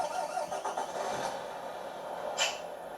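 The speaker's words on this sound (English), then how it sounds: "So start the engine, back again." G.T.Power RC truck sound module simulates a diesel engine starting: a cranking, chugging rumble builds then settles into a steady mid-pitched idle, with a short hiss near the end, played fairly close.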